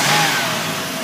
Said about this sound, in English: Rev it for me.